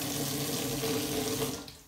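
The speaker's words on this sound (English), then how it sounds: "Fill this up with some hot water." Hot water runs from a tap into a container in a steady, close rushing stream that fills the whole moment before easing off at the end, with no voices over it.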